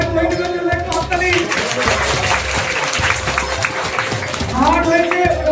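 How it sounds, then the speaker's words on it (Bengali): Sustained applause from a crowd at a school prize-giving ceremony, steady and loud for several seconds, with clapping that swells again near the end. "সবাই হাততালি"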